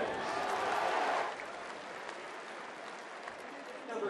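Crowd applause at a Target Field baseball game between New York and Minnesota, a broad wash of clapping that is loudest for the first second and then tapers to a steady distant murmur.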